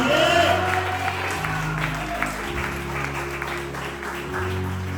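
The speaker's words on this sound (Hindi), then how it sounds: "जोरदार तालियां यीशु के लिए।" A church congregation applauding together, a dense continuous wash of clapping with some voices and a sustained musical tone mixed in, fairly loud and close throughout.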